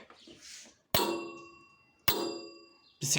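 Three sharp metallic clangs from a key struck on metal ring out one after another, each leaving a bright bell-like tone that fades before the next strike.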